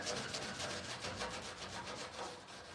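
Steady abrasive rubbing as a Scotch-Brite pad scrubs paint stripper over the original paint of a 56-year-old vehicle, a continuous close scouring with faint rhythmic strokes and no talking.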